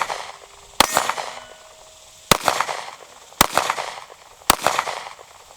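Four sharp, loud Taurus GX4 pistol shots ring out on an outdoor range at uneven intervals, each one followed by a brief echoing tail, with no talking in between.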